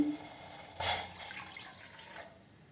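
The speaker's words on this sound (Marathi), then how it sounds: "आता आपण यामध्ये एक कप पाणी ओतणार आहोत" A brief splash as a cup of water is poured into a pan on a lit gas stove for tea, followed by a fading trickle and quiet background hum.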